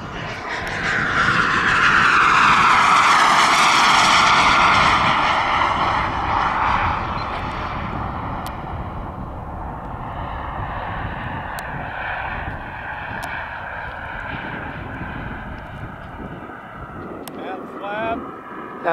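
A Global Jet Club T-45 model turbine jet makes a flying pass at a radio-control club field, its loud whine rising close overhead then fading to a steady distant roar under wind noise, with people talking.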